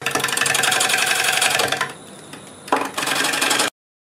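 A wood lathe spins a nicely balanced multi-axis lidded box blank at about 700 rpm, giving a steady mechanical whirring with a rhythmic tick. It drops to a quieter hum partway through, then rises again before stopping abruptly.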